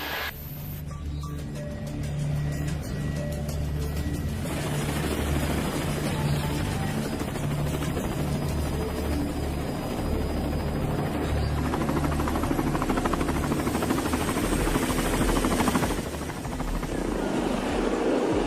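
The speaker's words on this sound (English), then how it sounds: "We got a helicopter only a sat phone call away" A helicopter drones loudly and steadily, its rotor producing a low thudding pulse that stays close and constant the whole time, with no talking.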